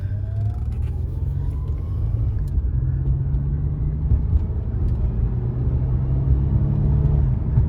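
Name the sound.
car being test driven on the road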